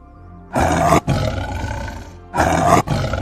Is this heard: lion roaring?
yes